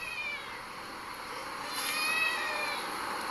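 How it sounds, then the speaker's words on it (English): A faint, thin crying noise like a cat meowing, heard in a forest and drawn out once or twice, distant and low against a quiet outdoor hiss with no talk. "They do oddly resemble the sounds of a cat crying."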